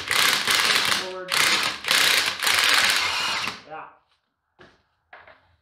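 Kobalt 24V XTR high-torque impact wrench hammering in loud bursts as the socket strips inside, roaring close up in three long runs before cutting out, followed by two short faint blips.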